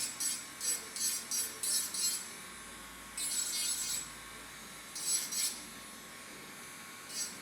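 Electric nail file smoothing fingernails, short high buzzing bursts in a quick series, then longer passes with pauses, faint over a quiet background hum.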